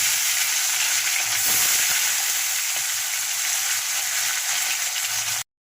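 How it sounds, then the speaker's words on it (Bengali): Gurjali fish pieces fry in hot oil with a loud, even, close sizzle that barely changes, then cuts off abruptly just before the end. "বাদ বাকি মাছটা আমি ভেজে নেব"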